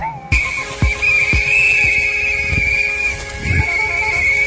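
A loud, sustained whistle tone runs through chaotic outdoor noise, with thuds and hoof-like knocks beneath it and no talking.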